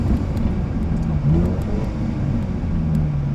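A car accelerates along the road behind a Volvo on a French road trip, a steady engine rumble and whir heard from inside a moving car, rising slightly mid-way, with no talk.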